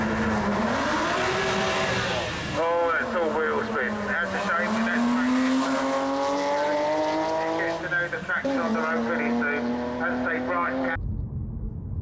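A VW Golf MK1 runs flat out, its engine droning loud and steady with pitch rising through the gears, heard from close by with a sudden cut at the end.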